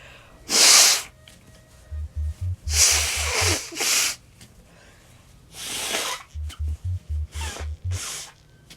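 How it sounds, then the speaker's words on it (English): Several loud, wet nose blows in quick succession, close up, with rustling and short thumping pulses in between. "I need to blow my nose again."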